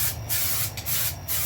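Raptor truck bed liner sprayed onto a 1000-watt e-bike frame, a loud, close hiss of compressed-air spray gun in steady bursts with brief dips between passes, no voices.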